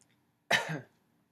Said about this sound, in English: Show me how you cough.